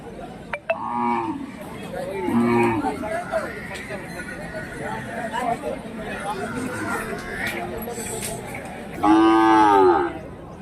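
Native bulls low in several deep moos, one near the start and a louder one near the end, amid a busy outdoor crowd of people talking at the Hirapur cattle market.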